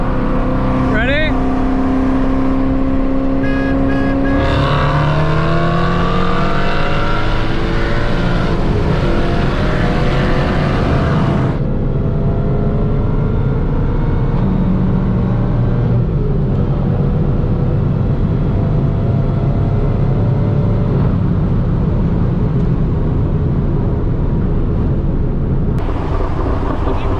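Loud engines of an F10 BMW M5 Stage 2 and a supercharged 2019 Mustang GT roar and rev in a race, pitch sweeping up through repeated gear changes before settling into a steady rumbling drone.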